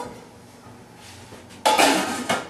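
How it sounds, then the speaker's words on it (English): A metal lid set down on a cooking pot, striking sharply against the rim, then settling with a second, smaller clink. The pot holds a dish topped with tomatoes and Parmesan. "Put your lid on it."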